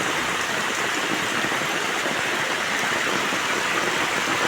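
A waterfall just beyond a house yard in a rainy village pours with a steady, dense roar of rushing water, close and unbroken from start to finish, with no voices.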